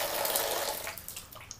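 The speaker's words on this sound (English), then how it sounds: "Now, you can see the water is being sucked back up this pipe and back into the drain back tank." Water drains back through a pipe into the drain-back tank of a small hybrid solar heating setup after the pumps are switched off: a rushing, gurgling flow that starts strong and fades into scattered trickles and drips, close and with no talking.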